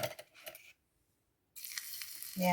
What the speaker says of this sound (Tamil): எண்ணெய் சூடாகிட்டுது. ஒரு சிறிய துண்டு போட்டு பார்ப்போம்.